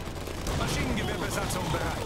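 Machine gun fire in the strategy game Iron Harvest, a dense rattling of distant automatic bursts and scattered shots running continuously under voices.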